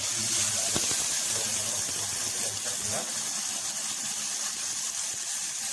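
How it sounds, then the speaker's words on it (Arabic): Hot broth poured into fried orzo pasta and vegetables for soup, a steady close rushing, splashing stream with a faint hiss, running unbroken for several seconds. "نزلنا بالعقل بتاعنا، هنبتدي نقلب لسان العصفور بتاعنا بالشكل ده"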